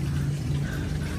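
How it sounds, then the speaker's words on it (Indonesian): Water trickles steadily from a pool at a villa, a soft, continuous wash of splashing with no voices over it. "kalau ada suara air ya jelas di sini ada kolamnya, makanya ada suara air, gemericik air"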